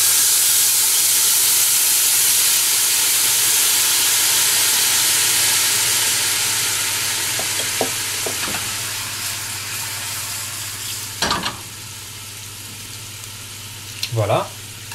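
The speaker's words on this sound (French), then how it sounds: "on déglace tout de suite donc avec notre sauce soja" Soy sauce hits brown sugar caramelizing in a pan over medium heat, a loud steady sizzle and hiss that slowly fades, with a few utensil clinks and scrapes near the end.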